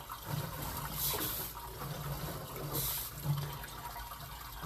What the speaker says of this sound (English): that might be a toilet